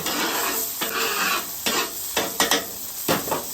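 Bacon fat sizzles loudly on a flat-top griddle, broken by several scraping strokes of a spatula pushing the grease forward; close and alone, with no talking.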